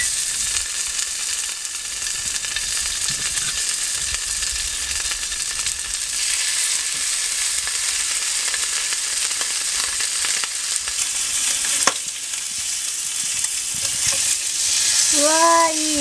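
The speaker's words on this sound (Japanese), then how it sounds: "焼いていきましょう" Bacon and eggs fry in a pan with a loud, continuous crackling sizzle that holds steady throughout, broken by one brief clink near the end.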